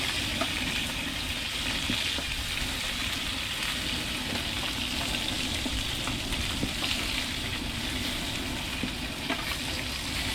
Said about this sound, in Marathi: मित्रांनो आपला चप्पल मासा फ्राय करून झालेला आहे